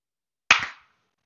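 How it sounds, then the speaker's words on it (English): A single sharp burst of hand claps from a group, struck together on cue in an acting class, loud and brief with a short decaying tail, isolated against silence. "Clap."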